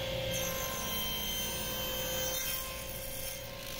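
A saw cutting thin wood shims on a Microjig sled, heard as a steady, close, continuous rasping whine that holds evenly, then eases slightly near the end.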